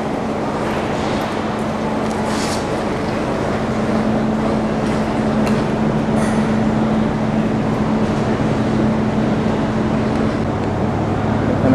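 A constant low rumble and hum of a moving train carries steadily throughout, with faint rattles and clatter over the top; no voices.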